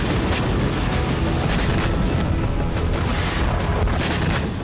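A weapons depot storing missiles and rocket stocks explodes after a strike, a loud, sustained roar of rumbling booms and crackling blasts running together without pause.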